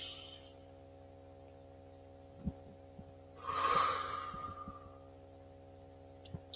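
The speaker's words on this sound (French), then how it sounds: "Prends une respiration." A single deep, audible breath taken close by, a breathy rush lasting over a second, set against a low steady hum with a few soft knocks.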